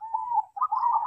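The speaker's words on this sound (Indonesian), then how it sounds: "Gacor seperti perkutut saya di depan ini." Zebra dove (perkutut) cooing in a steady, fairly loud series of soft tonal notes with a brief pause midway, heard alone without talk, during the rainy season.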